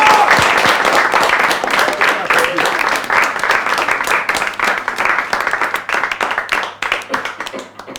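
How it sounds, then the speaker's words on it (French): Audience applause at a café philosophy gathering on medicine and magical thinking, loud, dense clapping throughout that thins toward the end into scattered claps, with no talk over it. "je vous propose d'applaudir très chaleureusement Rémi et Philippe pour cette initiative"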